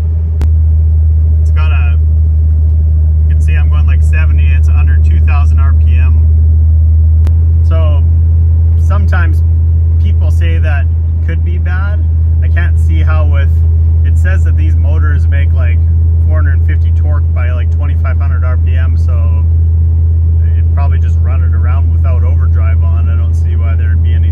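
A pickup truck towing a fifth-wheel trailer drives on a highway while its engine stalls out, giving a loud, constant low drone and road rumble with someone talking over it almost throughout.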